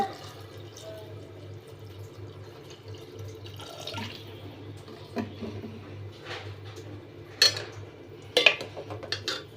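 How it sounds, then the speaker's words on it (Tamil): Water runs and splashes into a metal pot for sago milk payasam, a steady trickle with a few clinks of cookware near the end. "எவ்வளோ பாயாசம் வேணுமோ அந்த அளவுக்கு தண்ணி ஊற்றிக்கோங்க"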